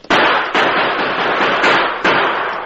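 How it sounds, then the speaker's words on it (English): Gunshots fired into the air as a radio drama sound effect, four loud, sharp reports spaced roughly half a second apart, each followed by a long ringing tail. "Hearing the shots, the troopers guarding the wagons knew something was wrong"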